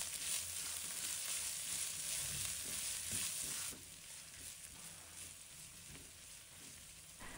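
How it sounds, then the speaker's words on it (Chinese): Ginger and fermented black beans are stir-fried in a hot wok during a seafood home-cooking dish, giving a steady, close sizzle and hiss with soft scraping stirs under it and no talk. "再把姜和豆豉放入锅中，继续炒香，炒出豆豉的香味"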